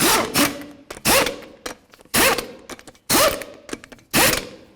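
Impact wrench or ratchet spinning lug nuts onto the front wheel of an 08-12 Jeep Liberty, five sharp mechanical whirring bursts close by with short pauses between, no talk.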